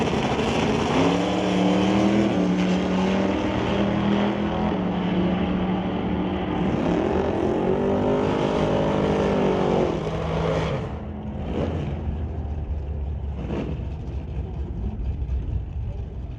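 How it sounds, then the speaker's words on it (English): A Dodge Dart and a Barracuda drag race cars roar loudly, their engines revving and rising in pitch as they launch and pull away, then the noise drops off into a distant hum with crowd and track ambience. "The Stone Cold Racing Willowbrook Motors Dodge Dart will race against the Bucky's Mini Excavating, Titanium Auto Group, and Rad Torque Systems Wheel Stand and Barracuda of Jim Banky."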